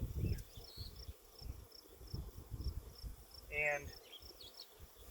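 Honey bees hum steadily inside a hive with building brood during an inspection, a soft continuous buzz under outdoor ambience, with a brief spoken word and a short louder buzz near the end.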